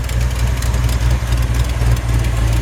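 A 1964 Chevrolet C10 pickup with a Vortec V8 and a small exhaust leak idles close by, a loud, deep, steady rumble with an even pulsing throb and no voices.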